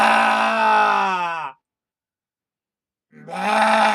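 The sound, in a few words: voice imitating a cow mooing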